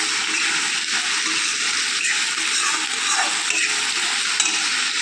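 Cauliflower frying with salt in a kadai gives a steady, dense sizzle with a bright hiss throughout and faint stirring scrapes, close and continuous.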